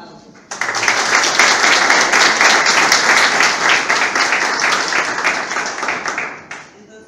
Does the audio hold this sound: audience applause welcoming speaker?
yes